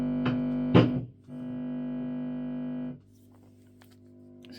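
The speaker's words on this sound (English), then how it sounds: "some of this hum's coming from the actual cable." Steady mains hum from a 1973 Fender Bassman 100 valve amplifier and its cable, a low buzzing drone with harmonics that holds for a couple of seconds after two short pops, then drops much quieter.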